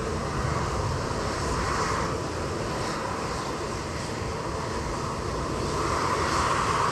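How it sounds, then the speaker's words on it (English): A privately owned seven-year-old Embraer Phenom 300 jet waiting at Edinburgh airport, giving a steady distant engine rumble and rushing hiss, fairly even in level with slight swells, heard alone without talk. "Waiting patiently, very patiently, is a privately owned Embraer Phenom 300"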